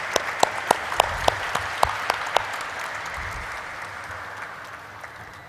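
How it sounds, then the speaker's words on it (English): A crowd at a stock exchange listing ceremony for SBFC Finance Limited claps, with a burst of sharp individual claps at the start that settles into a steady, gradually fading wash of applause. "Let us have a round of applause, ladies and gentlemen."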